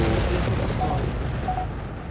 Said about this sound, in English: That was a serious explosion.